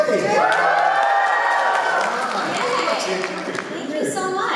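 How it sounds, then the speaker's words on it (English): A convention panel audience at MadFest Melbourne cheers loudly and steadily, a dense wash of whoops, shouts and clapping filling the room for several seconds. "I give you guys permission to cheer for Cherami, please!"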